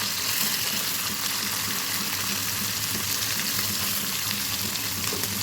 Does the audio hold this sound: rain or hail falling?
no